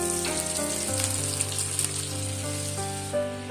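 Spice paste and onion paste fry in a pan with a steady, close sizzle under soft background music, no talking.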